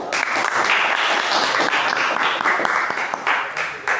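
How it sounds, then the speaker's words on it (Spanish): An audience applauds steadily for four seconds at a patriotic poetry recital, a dense, close wash of clapping hands with no pauses and no voices breaking through. "Y un aplauso una vez más."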